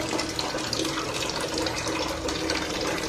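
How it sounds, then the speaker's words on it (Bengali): Water runs into a rice pot in a home kitchen, a steady, close, even gush with no pauses. "এই যে ভাতে জল ভরছি ভাতটা বসাবো"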